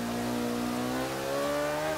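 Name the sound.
McLaren P1 engine revving in video game Forza Motorsport 5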